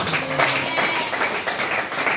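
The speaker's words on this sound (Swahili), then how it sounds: "Pigia Bwana makofi basi." Church congregation clapping hands in praise during a Swahili sermon, a dense continuous patter of claps at moderate volume with faint voices mixed in.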